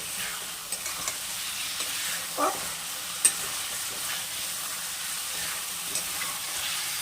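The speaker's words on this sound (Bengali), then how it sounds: "চলো এবার তরকারিতে ডিমগুলো দিয়ে দিই, তারপর একটু কষিয়ে জল ঢেলে দেবো।" Boiled eggs added to a simmering curry and stirred in a pan, giving a steady, close sizzle with occasional scrapes and a single sharp clink of the spatula against the pan.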